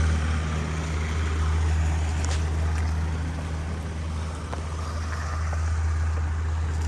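A carburetted Honda Dio AF-62 scooter engine idles steadily nearby, a constant low hum running unbroken throughout.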